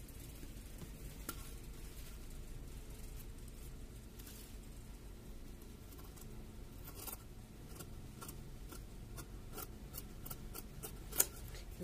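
Scissors cutting fabric for a bonnet hat: faint, intermittent snips and soft rustling of cloth at close range, with a quiet steady background and no talking.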